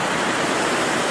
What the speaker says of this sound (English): So the dam is kind of overflowing into there